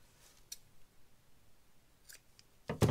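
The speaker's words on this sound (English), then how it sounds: "Trim these off." Scissors snip through paper mache material while trimming a troll figure, giving a few sharp, close cuts spaced out over quiet, with a louder cluster of snips at the end.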